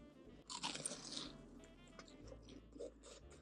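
Crunchy cheese balls from a Bburinkle chicken order bitten and chewed up close, a loud crisp crunch followed by softer, irregular chewing crunches, with no talking.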